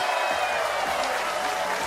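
A bowling arena crowd at a PBA playoff event cheers and applauds continuously, a dense, steady wash of clapping and voices that fills the space evenly throughout.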